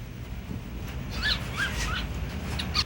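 A Yorkshire terrier at a Gangnam veterinary clinic during an emergency birth lets out a short run of soft, high whimpers over a low hum of clinic background noise.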